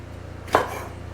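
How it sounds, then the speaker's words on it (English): One sharp knife chop lands on a cutting board while marinade ingredients such as limes are roughly cut for a skirt steak, a single close, crisp stroke over quiet kitchen background. "roughly chopping some of these ingredients"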